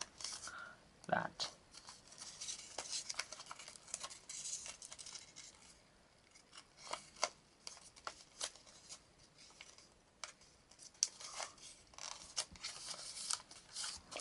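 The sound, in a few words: folding an origami paper dragon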